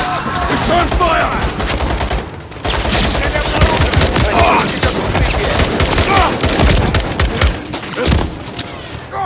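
Dense, loud gunfire trades back and forth with police in Call of Duty: Modern Warfare III, as rapid bursts and booming shots pile up almost without a break, with shouted voices mixed into the din.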